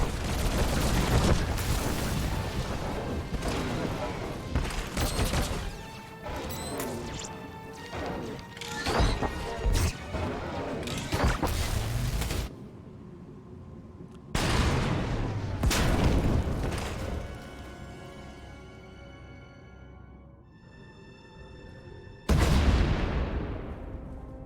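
Heavy booming blasts and crashing impacts in the video game Star Wars: The Old Republic roll one after another, loud and dense, with brief lulls and ringing decays between them.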